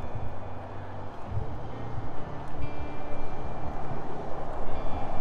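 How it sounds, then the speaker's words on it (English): Steady highway traffic noise beside a parked travel trailer: a continuous broad rumble and hiss of passing vehicles, moderately loud and unbroken, with no voices. "Sorry about the noise, we're right up against the highway here."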